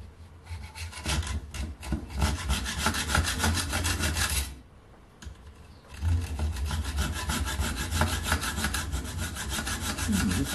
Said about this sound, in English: so we'll hacksaw halfway through.